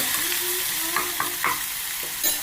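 Garlic and curry leaves sizzle in hot oil in a pan while a spoon stirs them. A steady frying hiss runs throughout, broken by several short scraping stirs.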